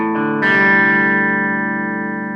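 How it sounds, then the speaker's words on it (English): An electric guitar played through a distortion effect with the level turned up high strikes a single chord that rings out loud and sustained, then slowly fades. "it don't have that distortion of what I want. The level's turned up pretty high on that"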